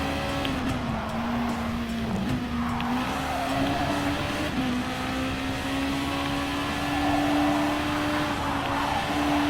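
A Gr.2 race car at Fuji Speedway in Gran Turismo Sport, its engine holding a steady, loud drone with a slight rise in pitch while accelerating, continuous throughout with no gaps.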